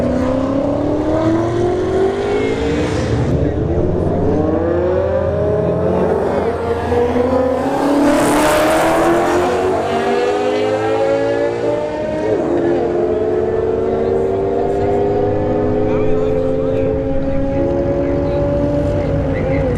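A D-badged BMW and an S197 Mustang launching side by side on a drag strip, engines rising in pitch through the gears over about twenty seconds, loud with a roar swelling mid-run, plus an announcer-style voice.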